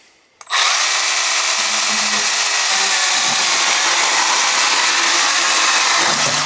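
Milwaukee 12V cordless mini chainsaw cutting through wood, a loud steady high-pitched motor whine and chain buzz that starts abruptly after a moment of quiet and runs continuously.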